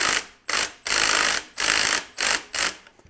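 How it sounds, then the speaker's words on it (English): A 3/4 inch wrench ratchets a nut tight while assembling an AR500 steel spring popper target, giving six loud, close ratcheting bursts in a steady back-and-forth rhythm. "I'm going to start the nut on the other side, grab my 3/4 inch wrench again."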